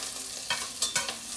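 Steady sizzling hiss of food frying in a pan, with a few brief louder bursts of crackle and stirring scrapes.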